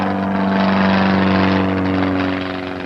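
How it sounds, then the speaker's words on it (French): Cartoon effect of an airplane powered by a very powerful engine: a loud, continuous droning engine roar with steady tonal hum, slightly easing toward the end. "Et si l'avion était actionné par un moteur très puissant?"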